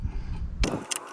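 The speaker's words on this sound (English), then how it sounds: "Tighten the nut." Tightening a nut on the outer CV joint of a 2000 Hyundai Elantra: a low rumbling handling noise followed by two quick bright metallic clanks of the tool, close and brief.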